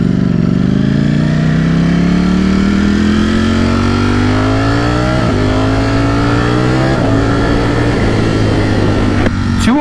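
A Ducati StreetFighter V4S hyper naked motorcycle accelerates hard on the road, its engine note climbing steadily and loudly through the rev range with brief shifts, close and continuous.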